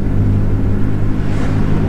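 An Alfa Romeo GTV, recently restored, driving slowly as it pulls into a motor factors car park, with a loud, steady low engine rumble from inside the car and no talk.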